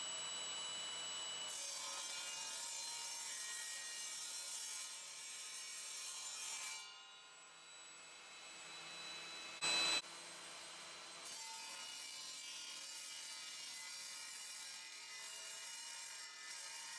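Evolution Rage 5S saw cutting through scrap material, a loud continuous rasping whine that dips and pauses briefly midway, then resumes steadily to the end.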